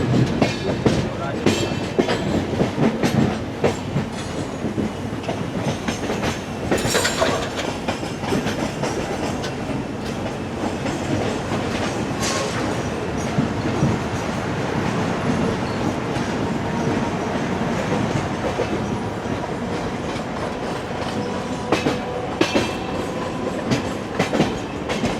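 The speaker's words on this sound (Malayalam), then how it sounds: "ഇവിടെ ലോക്കൽ ട്രെയിൻ വരുന്നുണ്ട്" A Harbour line local train bound for Panvel rolls past close by, with a continuous heavy rumble, rattling carriages and clattering wheels holding at full loudness throughout.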